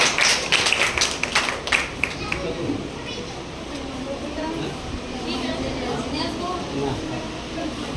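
A crowd at an Independence Day women's society gathering claps hands in quick bursts, loud and close at first, then fading into a murmur of voices and children's chatter.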